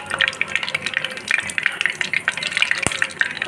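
Two green chillies fry in hot oil in a heated pan, giving a continuous crackling sizzle up close, with a sharp knock near the end.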